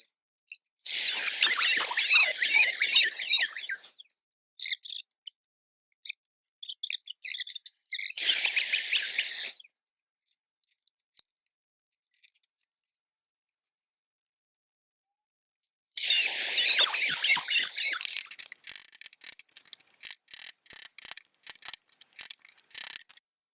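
A router cuts wood on a dovetail jig: three loud, bright bursts of high-pitched cutting, each a few seconds long and separated by silence, followed by scattered short ticks and scrapes.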